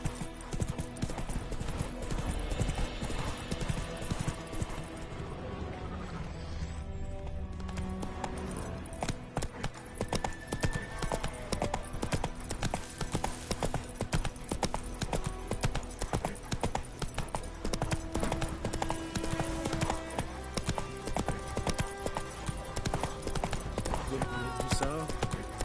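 Roach the horse in The Witcher 3 gallops with steady, rapid clip-clop hoofbeats throughout, loud and close, with occasional whinnies over game music and ambience.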